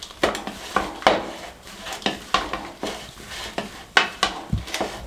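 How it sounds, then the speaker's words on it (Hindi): Apples and raisins being stirred together in a bowl for fruit chaat, a run of sharp spoon-against-bowl clinks and scrapes in an uneven rhythm, close and clear with no talking. "अच्छे तरीके से मिक्स कर दें।"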